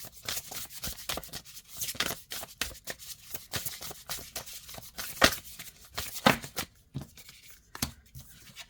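Oracle cards are shuffled overhand, a run of quick papery riffles and soft slaps in uneven bursts, close and fairly quiet, with no voices.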